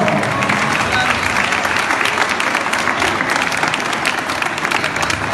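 A crowd at a carnival gala in Chivasso applauds loudly and continuously, a dense wash of many hands clapping close by without a break.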